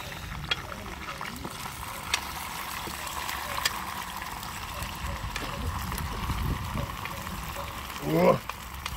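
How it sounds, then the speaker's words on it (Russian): Low, steady sizzling and crackling of potatoes frying in a pan, with a few soft clinks and a brief louder scrape near the end. "обжариваем."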